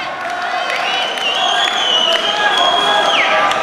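An FFC fight crowd roars steadily behind Scottish fighter Harry McDonald, a dense wash of cheering and whistles close up. Commentary talk runs over it.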